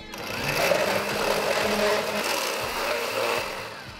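A blender purees cooked beans right in the soup pot for pasta e fagioli, a steady close motor whir with a slightly wavering pitch.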